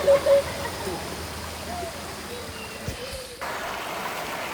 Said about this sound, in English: This is Jennings Creek in Virginia.